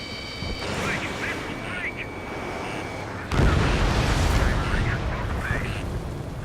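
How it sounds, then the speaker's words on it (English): A missile explodes in the jet combat video game Ace Combat 7: a sudden loud blast marks the midpoint and then a heavy rumbling roar holds steady, under steady engine noise and radio chatter. "Missile. Missile."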